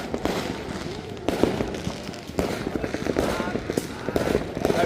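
New Year firecrackers popping repeatedly in a distant, irregular crackle throughout, with people talking over them.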